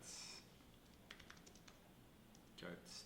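Several quick keyboard keystrokes tapped out in a short burst on a computer keyboard, faint and close, with brief speech at the start and end.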